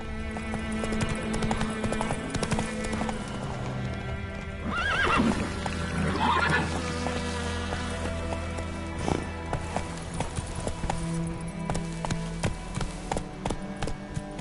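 Roach, a horse in The Witcher 3 on PS5, gallops with steady rapid hoofbeats and lets out a neigh or two over a continuous game music bed, loud and close throughout.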